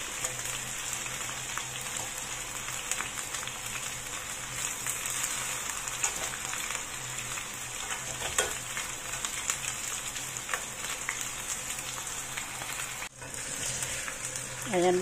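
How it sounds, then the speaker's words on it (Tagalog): Potatoes frying in hot oil for chicken afritada give a steady, dense sizzle that holds evenly at close range, with a few faint stirring scrapes and no talking. "I-fry muna natin ang potato bago natin isahog sa ating chicken"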